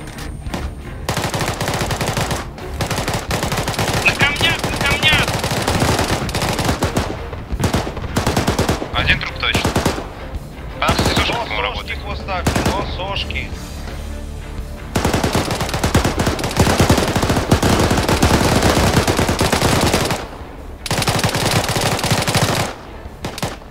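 Airsoft guns fire in rapid bursts and long automatic strings during a skirmish, loud and close, broken by short pauses, with voices calling out between the volleys.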